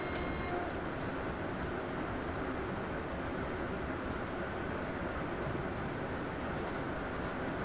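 In Train Simulator on the Great Eastern Main Line, a train rolls past as a steady, dense rumble and hiss of wheels and engine that stays even throughout, with no talking.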